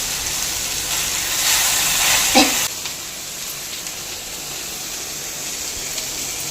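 Curry leaves dropped into hot oil for an okra fry give a steady bright sizzle and hiss, with a brief louder crackling burst partway through before settling back to a constant fry.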